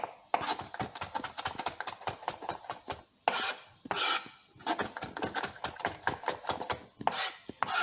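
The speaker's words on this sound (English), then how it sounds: "So when you're chopping, you always want to do this rocking motion like this." A knife rocks rapidly through mushrooms on a cutting board, a dense run of close, crisp chops in quick rhythm with a few short pauses.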